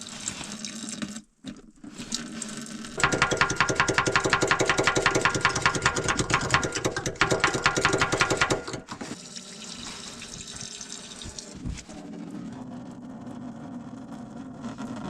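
Water mixed with diesel drains from an opened fuel line, a steady splashing gush that runs loud for several seconds before easing to a quieter trickle.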